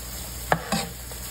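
Flour gravy cooks in pork chop grease with a low, soft sizzle, broken by two quick scraping stirs close by. The burst is brief and quiet, with no talk.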